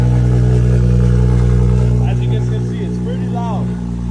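A warmed-up BMW F22 with a B58 engine and catless downpipe idles and revs with a loud, steady droning exhaust, a person talking over it.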